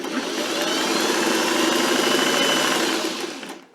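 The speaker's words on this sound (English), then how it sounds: "I'm going to sew up until I get to that little notch" A sewing machine stitches double-folded fabric for a shirt with a steady, close mechanical whir that runs without pause, then slows and winds down near the end, with no talking.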